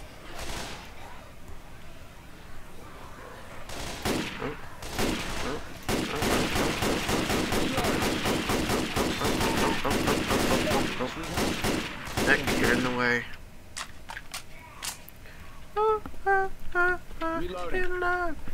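M16 rifle fire in the zombie shooter Left 4 Dead 2, long loud bursts of rapid automatic shots hammering continuously with slams and brief pauses, players talking over and between the volleys.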